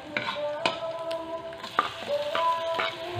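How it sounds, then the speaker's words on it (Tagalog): Garlic and onion sautéing in a pan, a steady faint sizzle broken by a few sharp clacks of a utensil stirring, with no talk over it. "magigisa na po siya commander. Yung bawang sibuyas po."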